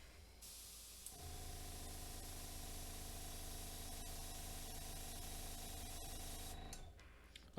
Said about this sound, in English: this is kind of a good test if you're like learning airbrush